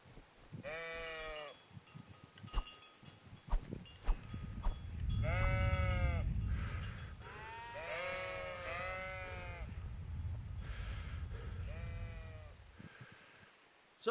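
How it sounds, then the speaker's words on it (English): Sheep bleating in the medieval video game Kingdom Come Deliverance, several drawn-out wavering bleats from one or more animals at moderate distance, spread over a quiet pastoral backdrop with brief gaps between calls. "Run, sheep."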